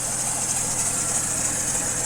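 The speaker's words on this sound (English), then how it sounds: "Now, we all know what that noise is. It could be either a belt tensioner, a pulley, or the actual belt." A Chevy Trailblazer engine idles with a suspected worn belt, tensioner or pulley, giving a loud, steady mechanical drone with a constant high-pitched whine riding over it.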